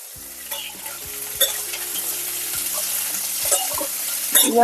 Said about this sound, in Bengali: গরম তেলের মধ্যে ফোড়নের মধ্যে নাটা চলে গেছে